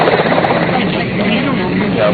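A Russian Mi-8 helicopter touching down after a Soyuz landing, its dense rotor and turbine roar steady and close throughout, with a voice speaking briefly over it.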